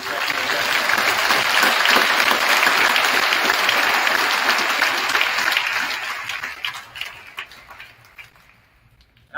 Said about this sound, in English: Please give our veterans a round of applause in respect to their death.